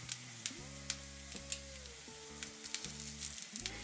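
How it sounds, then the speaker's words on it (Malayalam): Curry leaves sizzling in a pan of soya egg scramble, a faint steady crackling fry with small pops and light stirring taps, with no talk over it. "ഇനി നമുക്ക് കുറച്ച് കറിവേപ്പില ഇതിലേക്ക് ഇട്ട് കൊടുക്കാം."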